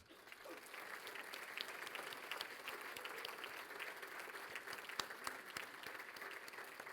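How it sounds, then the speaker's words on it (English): At a university athletic hall of fame induction ceremony, an audience gives steady, dense applause with a few sharper individual claps standing out, heard at moderate distance. "I think we need to give her a round of applause."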